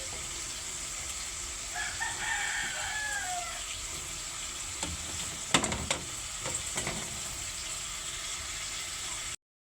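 Chicken wings frying in a pan for adobo, a steady close sizzle with occasional stirring clatter, and a rooster crowing faintly in the background partway through.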